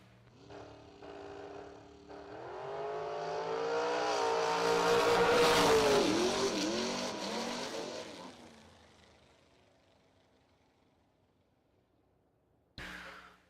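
Drag racing cars launch down the strip, a 2010 Corvette among them: a roaring, rising engine swell that peaks loud for several seconds, then fades into the distance, followed by near silence and a brief closing noise.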